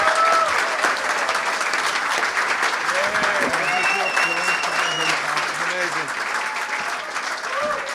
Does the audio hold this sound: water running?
no